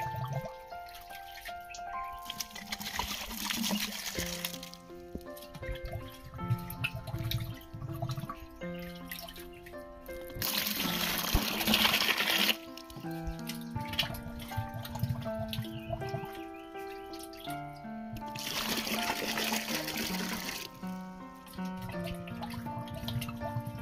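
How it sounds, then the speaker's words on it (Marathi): Water poured into a bucket to make about five litres for a Bordeaux paste mixture, three separate bursts of splashing trickle between quieter dripping and background sounds, close by. "तसेच दुसऱ्या बकेटीमध्ये देखील आपल्याला 5 लिटर पाणी घ्यायचं आहे"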